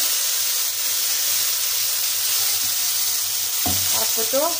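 Sambar masala of ground coconut, tomato and turmeric fries in a pan with a loud, steady hiss and sizzle close up, then a burst of scraping and stirring near the end.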